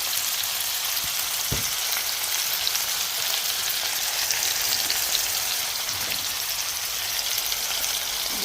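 Tomato and ginger garlic paste frying for a sea bass fish curry over a low flame, giving a dense, even, crackling sizzle that runs steadily throughout with a few faint knocks.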